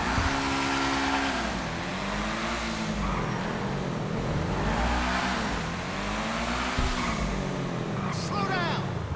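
Car engine and exhaust echoing inside a parking garage, a steady loud drone rising and falling in several rev swells, with a brief higher squeal near the end.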